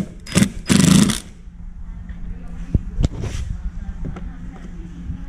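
Impact driver driving screws into pre-drilled holes while fitting a ratchet strap mount to plastic, heard as two loud bursts of rattling buzz near the start, followed by quieter clicks and handling noise.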